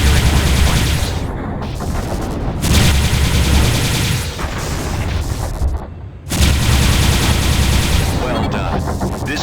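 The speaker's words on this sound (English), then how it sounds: "Target hostiles and destroy them with your Subak HL-7." Subach HL-7 laser cannons on a Myrmidon space fighter fire at drones in FreeSpace 2, loud sustained bursts of rapid shots that pause briefly twice, with a voice-like layer mixed under the fire.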